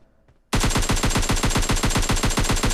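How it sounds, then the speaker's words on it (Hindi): Gunfire in the mobile shooter game PUBG Lite, where a rapid automatic burst scores a headshot. It bursts in loud and abruptly after a short quiet start, firing as a dense, even stream of many shots. "शॉट ऐसे फ्री फायर दिया और हेड शॉट लग गया उसको"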